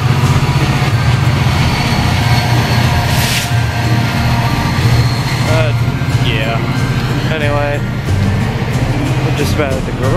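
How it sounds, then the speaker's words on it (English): A train passes at a distance during a cold, snowy winter day, a low steady rumble with faint rail squeals and hum, muffled and continuous beneath general outdoor noise. "There goes that train."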